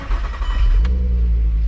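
VW Golf R32 with a full stock exhaust idling close by, a loud, steady low engine rumble with a brief click partway through and no voices.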